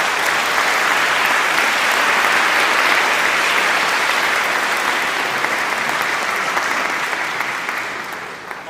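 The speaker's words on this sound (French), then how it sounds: "Tout d'abord remercier les enfants que vous pouvez applaudir une fois encore." At a Christmas Eve vigil, an audience gives the children a warm, continuous round of applause, full and close, that gradually thins out toward the end.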